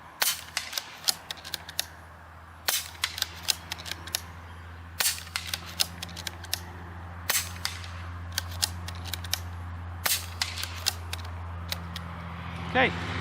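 An Umarex Notos G2 regulated air rifle fires a series of sharp, close shots at irregular intervals over a steady low hum.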